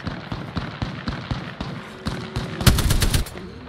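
Apex Legends battle gunfire, rapid bursts of close automatic shots building to a louder, sharper volley near the end.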